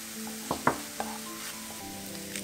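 King oyster mushrooms stir-frying in a pan with garlic and soy sauce give a soft steady sizzle, broken by a few brief clinks and scrapes of stirring, with no talk.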